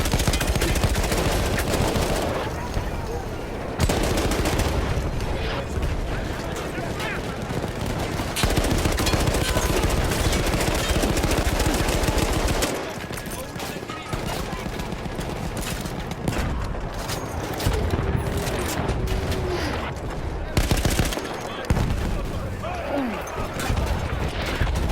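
Battlefield 1 combat with dense, sustained gunfire: rapid machine-gun bursts and overlapping shots crackle almost nonstop, loud and close, with brief lulls, crashes and voices talking underneath.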